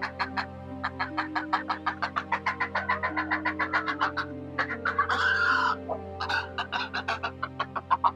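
Pet birds, including whistling ducks, herons and egrets, cluck and call rapidly in a steady, pulsing stream, close by, with a longer crowing burst in the middle.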